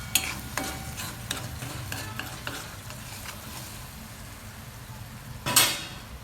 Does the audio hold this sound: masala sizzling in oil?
yes